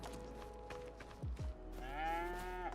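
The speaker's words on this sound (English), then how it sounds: "And here's our cows." Cattle lowing inside a farming video game, several long moos with rising, wavering pitch, one near the start and a louder, sustained one near the end over a steady low background.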